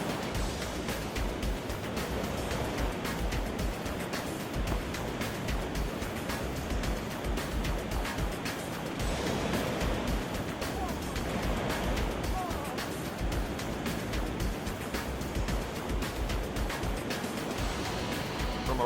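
Continuous roaring rush of a Grand Canyon whitewater rapid, loud and close, with broadband turbulent noise throughout and no clear pauses.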